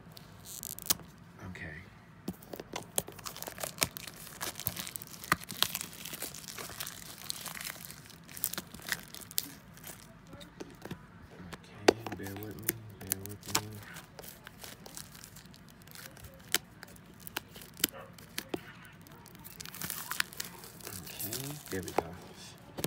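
Plastic packaging being pulled and torn off the box of a Mojo voice-activated speaker, heard as scattered crinkling, crackling and tearing bursts, with a person talking intermittently between them.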